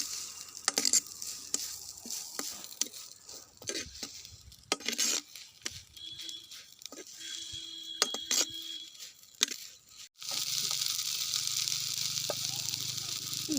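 Flying termites are being fried in a pan, giving a soft crackling sizzle with scattered stirring clinks and scrapes, then a louder, steady sizzle near the end.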